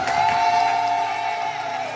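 A church congregation at a morning service erupts in loud, sustained shouts and cries of joy, a dense crowd roar of whoops and cheers filling the space continuously.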